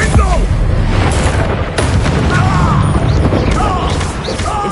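Confringo fire spell blasts in the video game Hogwarts Legacy: loud, continuous booming and crashing explosions over a dense rumbling battle din, with voices shouting in the mix.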